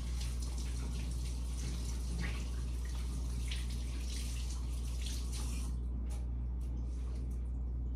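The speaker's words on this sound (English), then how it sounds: "Let me wash my hands before I do anything" Tap water running steadily while someone washes their hands, a constant close splashing stream that lasts throughout.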